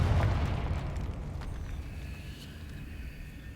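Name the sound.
Confringo blasting spell explosion in the Hogwarts Legacy video game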